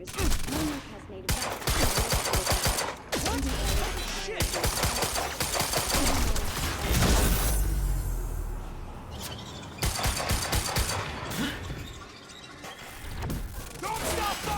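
Heavy gunfire in the video game Quantum Break: dense, overlapping volleys of shots and impacts go on almost without a break, with voices talking over the battle.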